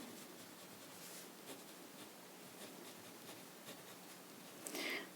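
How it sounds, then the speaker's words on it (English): A pen or stylus writing a decimal number, heard as quiet, faint scratching strokes spread across the stretch, ending in a brief louder scrape. "So let me write this."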